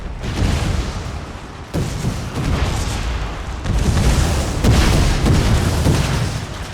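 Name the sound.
cannons firing in a war video game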